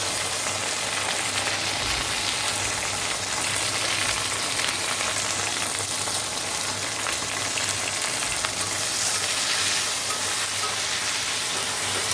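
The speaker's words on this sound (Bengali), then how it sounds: "এবার এই যে আলু কেটে রেখেছি আলুটা ভেজে নেব" Cut potatoes fry in hot oil in a kadai, a loud, continuous crackling sizzle with occasional stirring scrapes, steady and close throughout twelve seconds with no talk.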